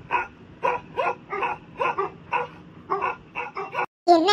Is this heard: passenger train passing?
no